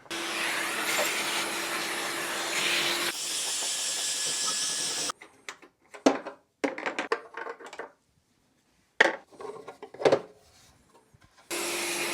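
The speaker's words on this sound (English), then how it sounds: "So now that I've blown out and cleaned up a bunch of the extra dust in here" Compressed air blasts dust out of a DEWALT thickness planer, starting with a loud, steady hiss for several seconds and then breaking into short, sharp bursts separated by quiet gaps.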